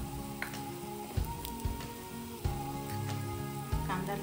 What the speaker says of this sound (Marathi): हे चांगलं आता तेल सुटेपर्यंत परतून घ्यायचं.